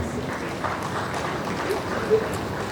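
Applause from guests at a professional investiture ceremony, a moderate, even patter of clapping at middle distance, with faint voices mixed underneath.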